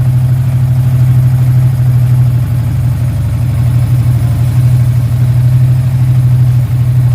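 A Yamaha Sniper 155 motorcycle engine idles steadily while warming up after a coolant change, a loud, close, even low drone with a constant throb and no speech over it.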